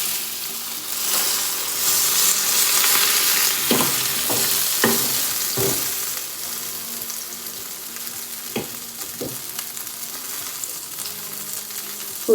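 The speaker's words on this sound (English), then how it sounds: "I'm going to put some butter. Now I'm going to put bread." Bread frying in butter in a pan for a spicy potato sandwich gives a steady, close sizzle throughout, with a few soft scraping and stirring knocks scattered over the crackle and no talk.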